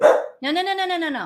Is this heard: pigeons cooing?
no